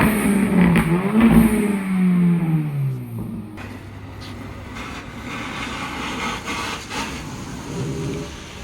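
A 2025 BMW M3 with a loud aftermarket exhaust roars through a couple of hard revs that sweep down into a deep rumble, then settles to a quieter idle with some faint clatter nearby.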